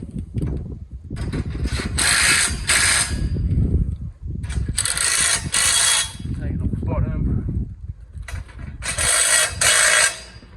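A ratchet tightening a steel scaffolding clamp fitted with a swivel on a standard, heard as three bursts of fast metallic clicking separated by brief pauses. The sound is close and fairly loud.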